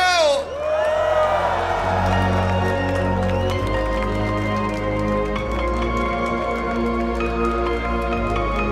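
Huge festival crowd at Tomorrowland in Belgium cheering, whooping and screaming continuously, loud and dense, with a steady pounding electronic music bed underneath throughout.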